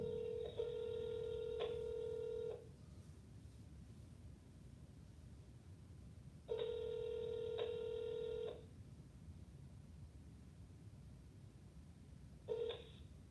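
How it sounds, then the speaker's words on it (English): A telephone call rings out on the line with a steady electronic ringback tone: two long two-second rings separated by a pause, then a third ring cut short. The rings are loud and clear over a faint hiss, with no talking. "let me see if this person will answer the phone"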